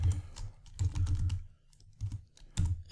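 Code is typed on a computer keyboard in a web editor: quick close clusters of key clacks come in short bursts with brief pauses and a heavier thump near the end, with no talking.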